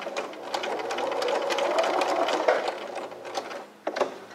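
A sewing machine stitching to the end of a curved seam and reversing, a close, steady whirring rattle of the needle that shifts pace near the end and stops briefly before a final short burst.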